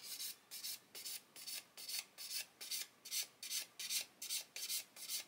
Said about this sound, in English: I'm going to go to this 600 grit Infinity Matador sander